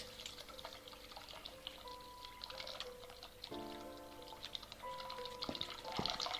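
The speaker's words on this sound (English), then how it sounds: "Yes, down the toilet. And then flush." A toilet flushes in the video game The Cat Lady: a steady run of pouring, trickling water over several seconds, moderately quiet, swelling near the end, with faint tonal game sounds and no speech.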